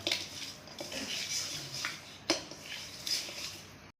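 Chicken pieces being mixed with spices by hand in a metal pan, giving soft, wet squelching and scraping sounds with a few light clinks against the pan, close and steady with no talking.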